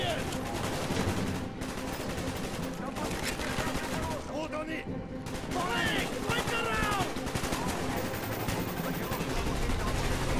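Gunfire in the video game Call of Duty Black Ops 1 crackles in rapid automatic bursts and single shots over a busy mission soundscape, loud and continuous, while a player talks.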